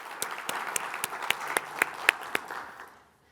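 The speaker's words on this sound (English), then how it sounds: "So if you don't mind to join me in a short round of applause" A conference audience gives a short round of applause, a few distinct claps standing out over a scattered background of hand claps, before it quickly dies away to silence.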